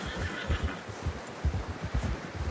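A horse in the Red Dead Redemption 2 video game gives a loud, shaky whinny lasting a couple of seconds, close by with no talking over it.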